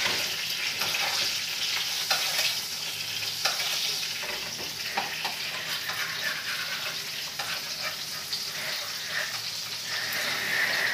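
Tapsilog frying in a pan with a steady, busy sizzle and crackle, broken by occasional stirring scrapes and taps, close and continuous with no talking.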